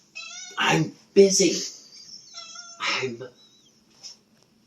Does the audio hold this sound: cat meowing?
yes